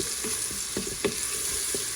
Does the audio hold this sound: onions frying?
yes